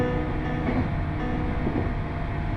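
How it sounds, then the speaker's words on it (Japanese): A loud, steady rumbling drone of an old JNR suburban and express electric train pair running under electric power on a final stretch, continuous and close, with a low mechanical roar throughout. "森中の生き物が目を覚ますほど大きなモーター音を轟かせ"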